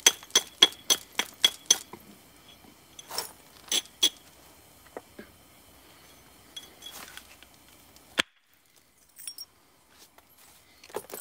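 Sharp stone-on-stone flint knapping strikes ring out, a quick burst of clinks followed by scattered single knocks and crisp taps in a quiet space.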